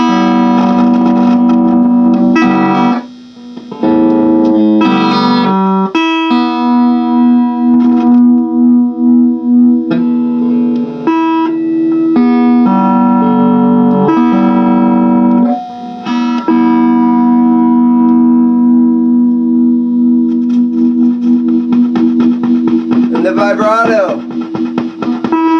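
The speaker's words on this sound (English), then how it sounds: "one is the reverb" Electric guitar played through an amp found in a storage locker, with the amp's reverb switched on: sustained, ringing distorted notes and chords with a lingering echo tail, loud and close throughout.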